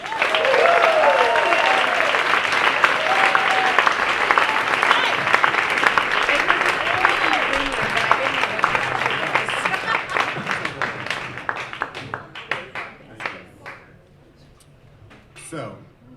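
An audience applauds to welcome storyteller Chris Tebbetts at a live storytelling gig, loud sustained clapping from a full crowd that thins into scattered claps and fades out near the end.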